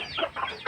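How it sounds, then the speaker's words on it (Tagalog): Young ducklings give a brief burst of high chirping peeps, fairly close and moderately loud, lasting under a second. "Ayan mga bibi."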